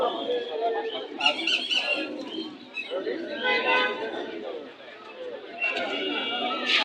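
Pigeons coo amid a busy pigeon market in Bangladesh, with near, steady crowd talk and bargaining voices over the birds throughout.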